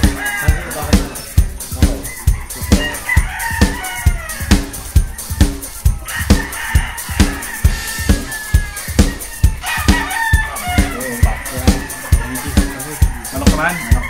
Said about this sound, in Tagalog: Pag may manok na maganda, siksik lusog, matipuno ang katawan